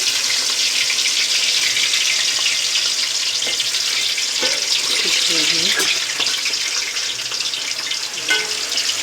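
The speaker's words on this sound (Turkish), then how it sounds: "Bütün patateslerimizi kızartacağız." Steady hiss and crackle of potatoes frying in hot oil, continuous and close, with faint clinks and a brief voice or two mixed in.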